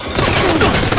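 A grenade goes off in the shooter game Arena Breakout Infinite: one loud, close, broadband blast that rumbles for about a second.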